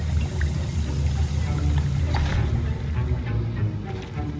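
Stirring a potion in the video game Hogwarts Legacy gives a steady sloshing, bubbling liquid wash with a low rumbling bed, continuous and fairly loud throughout.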